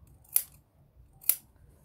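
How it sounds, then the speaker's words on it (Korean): Scissors snip twice through the seam allowance of a fabric dart bag during sewing, two sharp close crisp cuts about a second apart with quiet between them. "시접은 가위집을 좀 넣어줄게요"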